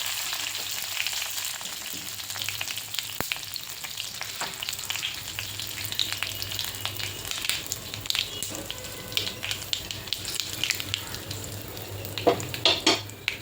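Curry leaves and asafoetida crackle and sizzle steadily in hot oil while preparing a lima bean (vaal) bhaji, with occasional stirring clinks against the pan, close and continuous with no talking.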